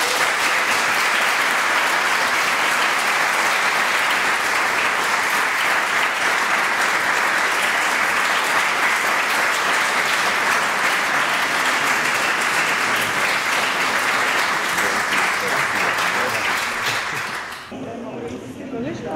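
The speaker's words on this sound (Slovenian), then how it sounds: "Jaz mislim, da se zaslužijo en velik aplavz." A theatre audience after a round-table discussion gives long, loud, sustained applause, a dense even roar of clapping that tapers off near the end.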